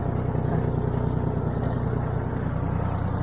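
Steady, close diesel engine drone of a Kubota GT 21 tractor being driven, pulling an inter-row cultivator, a continuous low throb with no pauses.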